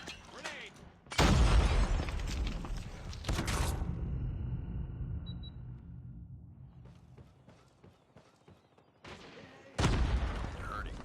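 Video game combat: a sharp grenade blast and bursts of gunfire break out loudly, separated by quieter stretches of fading rumble and a distant crackle, with voice callouts mixed in.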